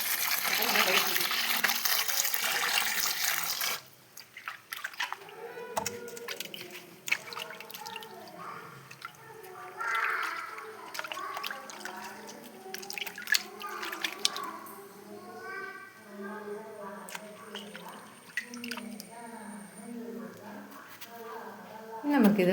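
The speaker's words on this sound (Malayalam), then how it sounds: "നമുക്കിതെല്ലാം നല്ല വൃത്തിക്ക് കഴുകി എടുത്തിട്ട് വേണം അരിഞ്ഞെടുക്കാൻ." Tomatoes are washed under running tap water: a strong gush of flowing water, then drips, splashes and handling noises in a kitchen while a person talks throughout.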